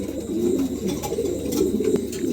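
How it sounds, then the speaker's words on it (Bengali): Fancy pigeons coo steadily and close by at a sale, their low throaty calls overlapping in a continuous rolling murmur with no pauses. "দুটা কবুতরই অনেক সুন্দর"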